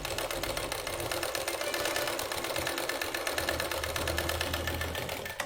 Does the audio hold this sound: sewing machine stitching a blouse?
yes